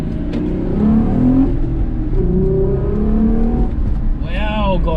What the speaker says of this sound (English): Let's hear that V6 open up.